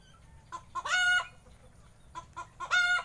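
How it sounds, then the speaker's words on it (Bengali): Chickens of several breeds on a village chicken farm cluck and call in two loud, close bursts with a gap between them, over a quiet background. "এখানে বিভিন্ন প্রজাতির মুরগি"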